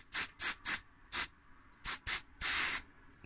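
Switch and contact cleaner sprayed onto a corroded circuit board inside a 1970s Casio Personal M1 pocket calculator, seven close, sharp aerosol bursts, four short ones, two more, then a longer final hiss, with nothing else heard.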